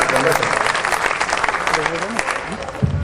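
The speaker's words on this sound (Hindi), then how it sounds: "आप जोरदार तालियां बजाएं" A crowd applauds loudly and continuously at a Hindi kavi sammelan poetry recital, a dense sustained roar of clapping with a voice speaking over it.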